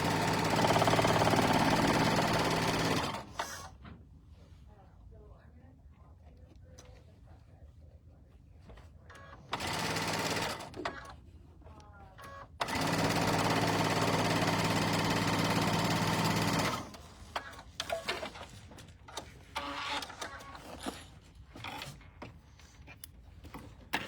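Sewing machine stitching quilt block pieces, several bursts of loud steady running separated by quieter pauses with small handling clicks and knocks.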